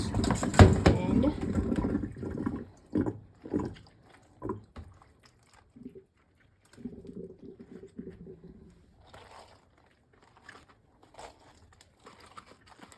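Water drained off boiled cabbage leaves, a short close splash and trickle at the start that thins into scattered drips, with a person speaking quietly in between.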